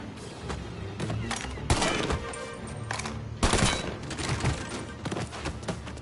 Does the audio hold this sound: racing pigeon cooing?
no